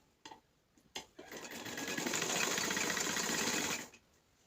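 Sewing machine running a single steady burst of stitching along a coat collar neck on a shirt, rising to a close, even whir for about two seconds before stopping, with a few handling clicks before it.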